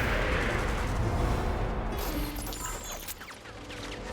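A big cannon-like gun firing in Genshin Impact, heavy booming blasts and crashing impacts, loudest at the start, then fading into scattered crackling debris and lighter hits.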